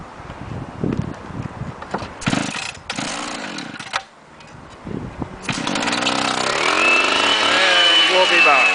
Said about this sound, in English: he's going to cut the sides of this chimney